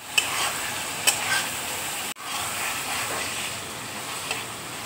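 Okra sizzling steadily in a pan of well-cooked spiced masala with sugar and raisins, a continuous close frying hiss broken briefly once, with a few light clinks near the start.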